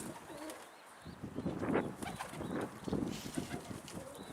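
Soft cooing pigeons call repeatedly at close range, steady and low, with faint rustling around them, in Mardin.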